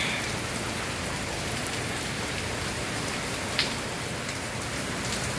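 Heavy rain pours down during a thunderstorm in Tennessee, a dense, continuous hiss of drops striking surfaces, with one brief sharper splash or crack partway through and no talking.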